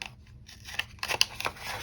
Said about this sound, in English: I've got my crocodile punch, and I'm just gonna go ahead and punch out that final little punch.